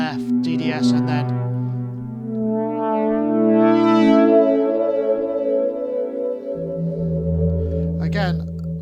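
A sustained, warm UDO Audio Super 6 polysynth pad holds long chords with a soft delay tail, the notes shifting slowly and then dropping lower near the end.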